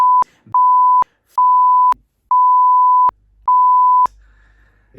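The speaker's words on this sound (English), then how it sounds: "just bleep all of that out, like really, really, really long" A steady electronic bleep tone repeats five times in sustained bursts of varying length, separated by short silences, loud and clean.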